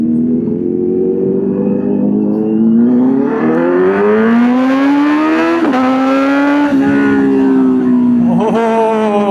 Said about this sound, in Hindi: अभी यहाँ पर बहुत शोर करेगा ये बाइक, बहुत ज़्यादा।